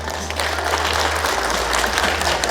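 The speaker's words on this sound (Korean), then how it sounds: "한 분 소개해 드릴 때 여러분 큰 박수 부탁드리겠습니다." Audience applause at a regional administrative integration expert panel debate, steady dense clapping from a seated crowd with a low electrical hum underneath, filling the whole moment without talk.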